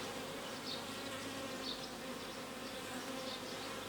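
Honey bees buzz steadily around an opened hive body of a Ukrainian-Alpine hive. A dense, continuous drone from many bees rises and falls softly as individual insects pass nearby, with no voices.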